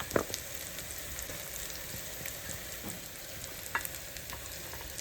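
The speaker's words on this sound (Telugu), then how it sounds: "ఈ మసాలాలు ఇది ఒక 5 నిమిషాలు బాగా ఫ్రై అవ్వాలి." Mutton trotters frying with masala in a pan, a steady close sizzle throughout with a few sharp crackles and stirring scrapes, no voices.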